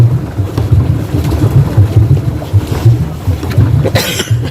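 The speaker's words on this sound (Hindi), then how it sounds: "इस टाइम जो हमारी बोट जा रही है वो जा रही है लाइब्रेरी की तरफ को" A small tourist boat moving across Nainital lake in cool, rainy weather, with a steady low rumble of motor and water washing alongside, plus wind buffeting the microphone and a brief louder swish near the end.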